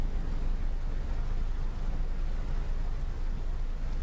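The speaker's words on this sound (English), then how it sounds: "I can hear the rain starting." Steady broadband rain from the ship simulator game Nautic XP, a dense continuous hiss with low rumble of a storm at sea, even and unbroken with no talk.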